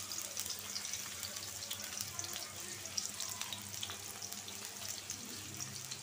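Onion and green chili frying in a pan, a soft, steady hiss and crackle of sizzling oil, faint and continuous with no talk.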